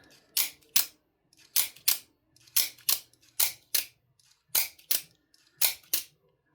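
An American-made OTF knife's blade is fired out and retracted again and again, giving sharp, close mechanical snaps that mostly come in quick pairs with short gaps between them.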